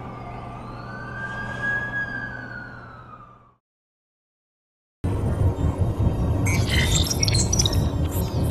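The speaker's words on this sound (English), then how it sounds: "That's the ambulance I called." An ambulance siren wails in a steady rising and falling tone that fades out, then after a short silence a loud, noisy street scene with traffic follows.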